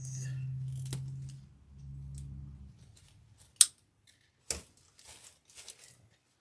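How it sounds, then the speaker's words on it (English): Scissors snip fresh blue tulip and eucalyptus stems for a grapevine wreath, a few sharp, isolated cuts spaced apart in a quiet room after a brief low hum fades. "just trimming those stems"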